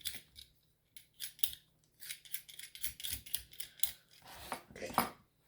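Fresh ginger is skinned for Mongolian beef with short, crisp scraping strokes coming in quick irregular bursts, close and fairly quiet, with brief pauses between them.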